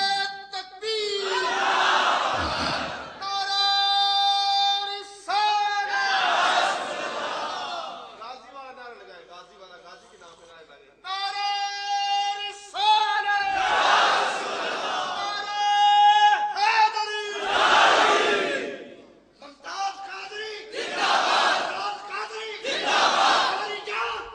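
A large crowd at a religious gathering chants slogans loudly, with repeated long, harmonic call-and-response shouts in sustained waves, separated by short pauses and a brief quieter stretch of murmuring.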